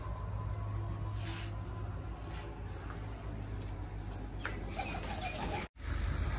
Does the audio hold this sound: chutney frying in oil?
no